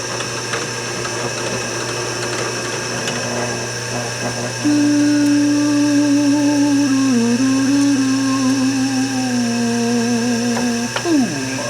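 A power drill bores a half-inch hole in deck wood. The motor whines in a steady tone that dips and wavers in pitch under load, then cuts off abruptly near the end.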